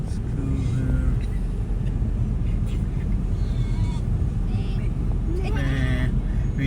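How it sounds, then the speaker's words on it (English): Goats bleat several times from inside a moving car on a road in Wakenaam, short wavering cries over a constant engine and road rumble, with voices talking in the background. "We have some goats in the car also."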